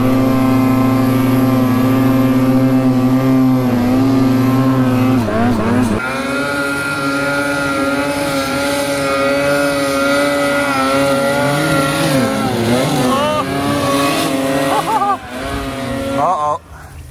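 A snowmobile engine revs hard and steadily while climbing a steep snowy hill, its tone rising and wavering. The engine stays loud and close throughout, and voices speak over it near the end.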